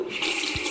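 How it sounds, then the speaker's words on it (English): A short burst of running water from a game sound pack, a steady, close splashing rush that lasts under a second. "Water."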